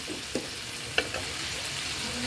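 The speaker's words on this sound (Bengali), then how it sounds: "মশলার সাথে পটল আমি কষাই নিচ্ছি" Pointed gourd sizzles in a pan as it is fried with spices, a steady close crackle broken by a few sharp clinks of a stirring utensil.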